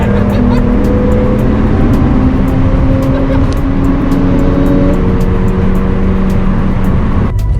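A loud car engine, from a Mazda Miata NC3 or tuned RX-8, revs hard and steady to 9,000 rpm, a high droning whine with rising harmonics, then cuts off abruptly at the end.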